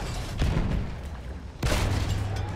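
Tank cannon fire in the Battlefield 1 video game, two heavy booming blasts roughly a second apart, each followed by a rumbling tail, loud and close with dense battle noise around.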